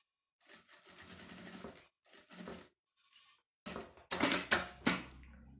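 A sewing machine topstitching bias binding to finish a small manicure-kit pouch, running in several short bursts with pauses between, the last runs louder and faster, close up with no voices.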